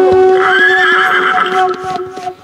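A horse neighs in a long, loud, wavering whinny while hooves clip-clop in an uneven rhythm beneath it, the hoofbeats continuing after the call fades.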